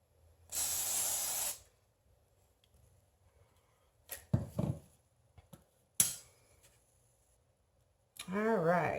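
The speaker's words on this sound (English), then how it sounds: "I'm going to respray this section with the WD-40." Aerosol bursts of WD-40 sprayed onto a floor to remove adhesive: a sustained loud hiss of about a second, then shorter spray hisses amid handling noises, with a person speaking briefly at the end.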